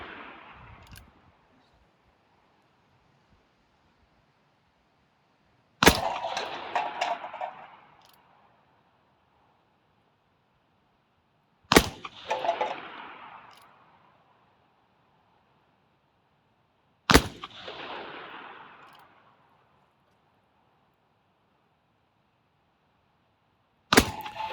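Four sharp, loud shots from a Remington 1858 black powder revolver fired outdoors at cans and bottles, evenly spaced about six seconds apart, each trailing a short echoing decay.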